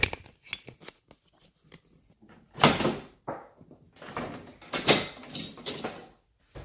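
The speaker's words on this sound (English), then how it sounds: "So, let's get this door panel off." An interior door panel on a BMW E36 being stripped for a drift car build is pried and pulled off, giving a series of close plastic clicks, scrapes and rustling thumps in irregular bursts.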